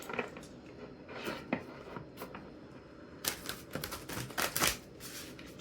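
A very large tarot deck is shuffled up close. Dense, papery riffles and rapid card clicks come in bursts and grow busier and louder toward the end, with no voice over them.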